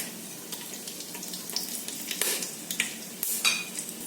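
Whole spices frying in oil for a boneless chicken pulao, with cinnamon, cloves, peppercorns, cardamoms and bay leaves, a close crackling sizzle with irregular pops and clinks of stirring that swell louder toward the end, no speech.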